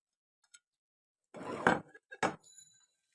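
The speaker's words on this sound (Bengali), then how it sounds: "এখন আমি ভালোভাবে এই সবগুলো উপকরণকে মিশিয়ে নিব।" Chopped green chilli and mashed fish being mixed in a bowl, a couple of brief scraping clatters of a utensil against the dish, close and isolated amid silence.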